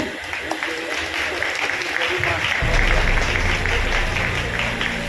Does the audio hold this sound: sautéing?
no